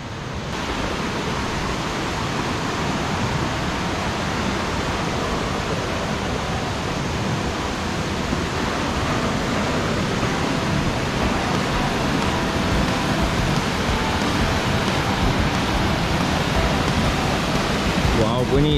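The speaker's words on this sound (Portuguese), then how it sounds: "E estamos chegando na quarta cascata" Cascada Madre, a waterfall near Mindo, Ecuador, gives a constant broadband roar of falling water. The rush holds steady and loud with no breaks for the whole stretch.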